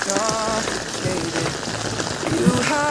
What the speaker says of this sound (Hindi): इधर से जब मैं आया हूँ बारिश हो रहा है भाई